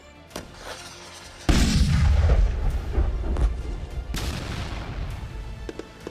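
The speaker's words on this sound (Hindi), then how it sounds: "यह धमाका खुद बता रहा है" A large explosion from an anti-tank guided missile strike during an army firing exercise on the India-Pakistan border, opening with a sharp blast and then a heavy rumbling roar that slowly fades, preceded by faint distant thuds, with no voices.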